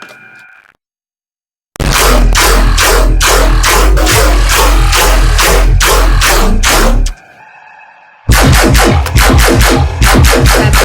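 A loud, punchy electronic bass line with layered parts plays in rhythmic bursts, cutting out briefly twice with quieter tones in the gaps.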